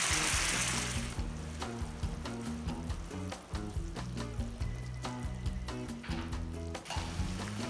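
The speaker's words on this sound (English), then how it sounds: "I'm gonna drop the marinade into the skillet, get it nice and sizzling, and then put in our lamb chops." Marinade and lamb chops sizzle in a hot skillet, a steady crackling hiss with scattered pops that starts with a loud burst and settles into continuous frying.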